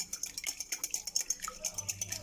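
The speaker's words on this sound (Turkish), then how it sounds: "Şimdi yumurtamı bir güzel çırpacağım." Eggs whisked by hand in a bowl for a carrot and walnut cake, a quick steady rhythm of light metallic clicks and taps from the whisk striking the bowl, close and fairly quiet.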